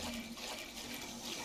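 Water splashes and sloshes in a video game, a faint continuous wash of watery hiss with no talk.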